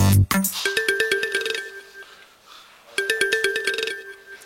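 A mobile phone ringtone plays as a repeating melodic pattern, loud and close, breaking off briefly before starting again, with no talk over it.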